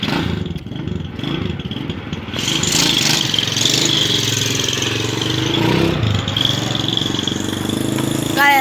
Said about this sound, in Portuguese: desculpa se vocês ouviram um outro barulho de moto